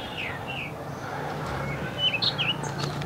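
Birds chirp and tweet around a large pond at the old Mohera zamindar house, a few short calls rising clearly near the end over a steady, quiet outdoor background.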